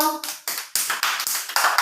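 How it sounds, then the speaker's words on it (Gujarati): Young children at an anganwadi clap together for a classmate, a short burst of about seven quick, uneven claps close by. "તો ચાલો નેન્સીબેન માટે એક તાળી પાડી દો."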